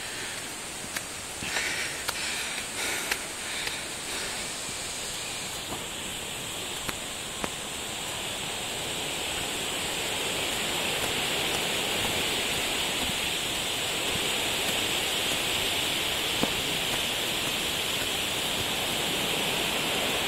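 Three Falls waterfall in Santa Maria, Laguna, rushes with a steady, broad hiss of falling water, constant and fairly distant, growing slightly fuller in the second half.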